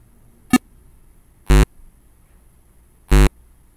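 A buzzer on an IoT project sounds intermittently: a short blip, then two longer harsh buzzes, spaced about a second or more apart against a quiet background.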